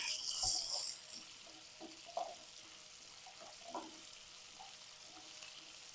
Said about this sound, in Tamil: வெங்காயம் நல்லா வதங்கிடுச்சு, பூண்டையும் சேர்த்துக்கலாம்.